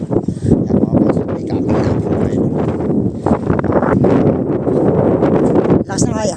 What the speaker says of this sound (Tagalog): Lakas ng hangin pre